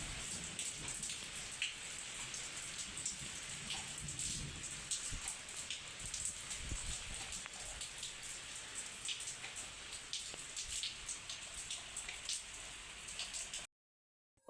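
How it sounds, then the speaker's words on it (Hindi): Heavy rain pours down in a dense, steady hiss of drops hitting surfaces. It continues evenly for over thirteen seconds with no voices, then stops abruptly. "इतनी ज़ोर की, ये देखो इतनी तेज़ बारिश शुरू हुई।"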